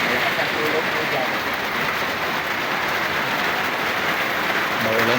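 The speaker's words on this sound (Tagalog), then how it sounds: "Malakas po ang ulan ngayon." Heavy rain pours steadily as a dense, continuous hiss close by, holding the same level throughout with no gaps, while faint low rumbles sit underneath.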